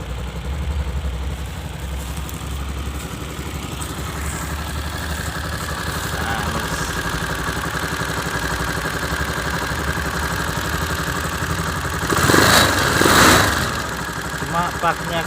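A 2011 Viar Karya 200cc motorcycle engine idles steadily with a low, uneven rumble and a faint ticking from a slightly leaking exhaust, rising in a brief louder burst near the end.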